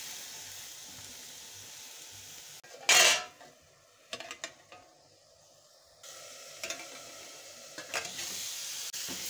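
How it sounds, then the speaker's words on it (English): Broccoli cooking in a pan with a little water is stirred, giving soft scraping and clinking of a utensil against the pan in short bursts, with a brief loud clatter early and faint sizzling underneath. "Keep on stirring so it doesn't get burned."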